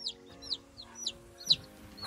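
Newborn broiler chicks, up to two weeks old, cheep with several short high peeps spaced through the moment, fairly near and moderately quiet over a steady low hum, with no talk.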